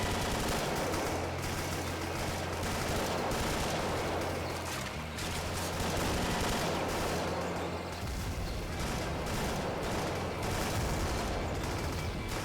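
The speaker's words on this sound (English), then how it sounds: "This guy's got rocket propelled grenades, dude." Rocket propelled grenade fire in the Doom-engine game VietDoom, a dense, loud barrage of blasts and gunfire that keeps up without pause.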